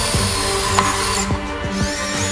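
Powerful electric drill unscrewing screws from painted color steel plate, close and loud, with a whirring motor that stops, restarts and shifts pitch in short bursts.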